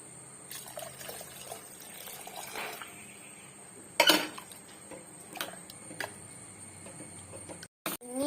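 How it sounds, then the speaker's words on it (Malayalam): Water poured into a pot of curry, a faint trickle and splash with clanks of metal pots and utensils, one sharper clatter midway and a brief silence near the end. "ഇനി വെള്ളം നമുക്ക് ഇതിലോട്ട് ഒഴിച്ചു കൊടുക്കാം."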